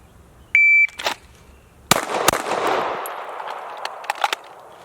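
A custom-built Glock G45 pistol fires at a 10-yard target with sharp, loud cracks that ring out in the open, after a shot timer's electronic beep.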